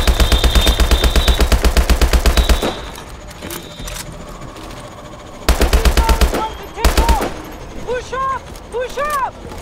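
Rifle fire in Call of Duty Advanced Warfare: two loud, rapid, evenly spaced automatic bursts, separated by a quieter stretch, with chirping electronic tones near the end.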